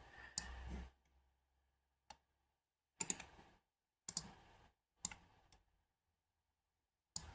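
Mouse clicks while working in MT Pro 4 8-channel tuning software, isolated sharp clicks spaced about a second apart, close and quiet with near silence between them.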